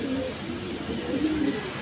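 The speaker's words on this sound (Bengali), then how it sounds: "এটা হলো গররা কবুতর" Gerra pigeons coo steadily in a low, rolling murmur, close by and continuous, with no speech.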